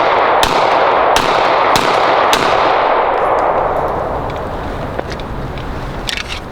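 Sig Sauer pistol, a P320 or P365, firing several rounds, about five sharp loud shots in quick succession with ringing echoes, then a quieter tail with faint clinks.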